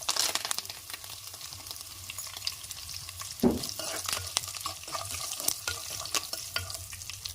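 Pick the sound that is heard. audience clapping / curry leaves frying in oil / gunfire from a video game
curry leaves frying in oil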